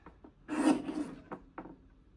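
A paper trimmer slices through a strip of scrapbooking paper, giving one longer rasping cut followed by a couple of short scraping slides of the blade, close and fairly quiet with no talk.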